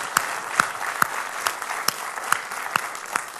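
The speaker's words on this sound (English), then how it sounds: "a tremendous round of applause" At a PegaWORLD 2006 corporate conference closing, a few scattered hand claps ring out one at a time in a slow, roughly even rhythm, distinct and close over a quiet room.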